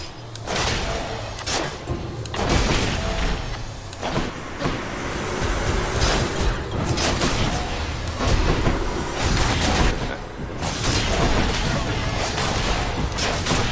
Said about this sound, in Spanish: ¿y todas esas explosiones?